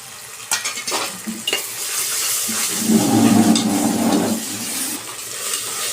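Ginger garlic paste frying in a pan, with a few utensil clinks and stirring scrapes at first, then a louder, swelling sizzle as the paste hits the hot oil, easing off toward the end.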